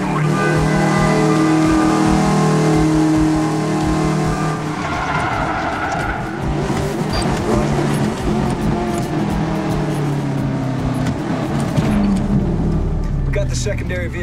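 Car engine in Medal of Honor: Warfighter, loud and steady near the listener with skidding tires and shifting engine tones as the vehicle drives through Dubai, while voices talk over it.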